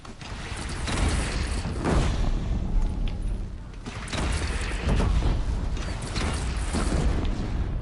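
Gunfire in the Horizon Zero Dawn video game, played on PS5: repeated booming shots and mechanical clatter in bursts through a dense, noisy battle mix, loud throughout with no speech over it.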